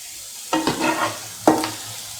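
Tomato rice mixed with salt in a pan, two brief bursts of scraping stirs over a quiet background, close and distinct.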